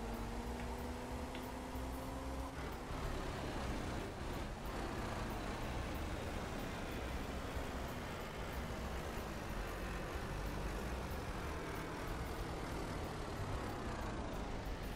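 A tractor drives in the farming video game Ranch Simulator, giving a low, steady, rumbling engine drone that stays faint and unbroken throughout.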